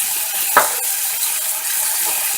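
Onions and cumin seeds frying in a pan for curry give a close, continuous sizzle, with one sharp knock of a utensil against the pan and a few faint scrapes of stirring.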